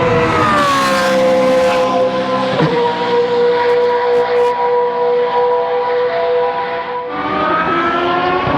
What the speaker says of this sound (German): Ich werde hier gerade von Boss GP überholt.